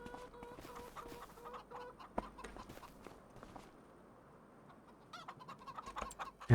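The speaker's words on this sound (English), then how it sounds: "And we'll see if the chickens do anything with that." Chickens cluck softly on a farm near a fence, the short clucks scattered over a low outdoor background with some rustling and footsteps.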